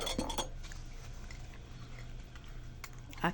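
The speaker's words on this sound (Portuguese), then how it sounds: "Mas eu vou dar início aqui a louça" Dishes and cutlery being washed in a small 1.2 m kitchen sink, with sharp clinks of metal and crockery at the start and end and quieter rattling and handling in between, no voices.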